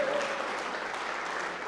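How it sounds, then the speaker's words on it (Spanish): A church congregation breaks into applause, a dense, even wash of clapping that fills the room for the whole moment, with a voice briefly heard at the start. "Celébrelo con gran ovación."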